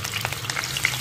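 Japanese sweet potato pieces fry in a hot pan, giving a steady close sizzle with small crackling pops throughout, no voices present.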